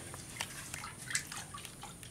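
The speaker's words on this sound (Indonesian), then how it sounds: "kemudian selanjutnya terakhir kita seperti biasa siram dengan menggunakan air cucian beras" Rice-washing water is poured onto compost in a composter, giving light, irregular splashes and drips close by over a soft background hiss.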